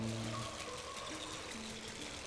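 Water trickling and pouring inside a haunted mansion in the Luigi's Mansion video game, a soft steady stream with faint tonal game music layered over it, continuous throughout.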